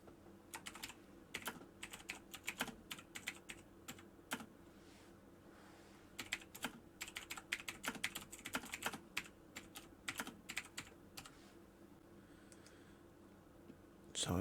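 Someone types a sentence on a computer keyboard, producing quiet, close bursts of rapid key clicks separated by short pauses.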